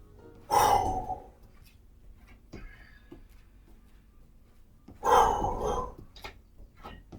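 Two deep, forceful breaths during an aerobics workout, each a loud rushing exhale about four seconds apart, with faint quieter breathing between them and no talking.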